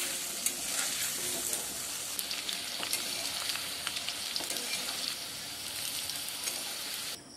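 Potato pieces sizzle in hot oil seasoned with salt and turmeric, a dense, steady crackling fry up close with scattered sharp pops and occasional stirring, no speech.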